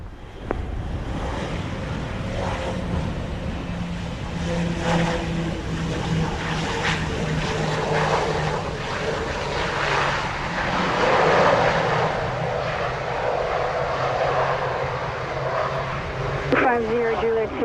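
A Bahamasair airliner taxis at Montego Bay airport, its steady engine roar filling the whole stretch with a constant broadband whine and rumble, while air-traffic radio chatter plays over it and a brief rise comes near the end.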